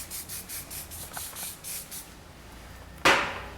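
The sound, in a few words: spray applied to a beard for fixing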